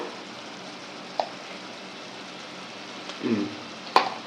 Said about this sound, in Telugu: టమాటాలు ఉల్లిపాయలు పచ్చిమిరపకాయలు ఇలా బాగా మర్చిపోయిన తర్వాత కొంచెం ఒక స్పూన్ అల్లం వెల్లుల్లి పేస్ట్ వేద్దాం